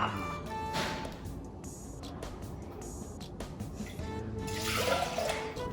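Water is poured into a pot of rice and moong dal, a soft, continuous gush and splash that stays fairly quiet, swelling slightly near the end.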